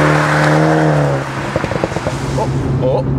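A Toyota GR Supra with the 2.0-litre four-cylinder engine idles steadily at close range, then its exhaust gives off a series of popping, burbling crackles as a voice talks over it.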